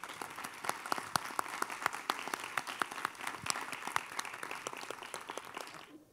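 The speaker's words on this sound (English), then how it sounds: "Let's give these ladies a round of applause" Applause at the close of an interim legislative study hearing, a steady round of clapping from a modest room audience with sharp individual claps standing out, sustained evenly before stopping abruptly.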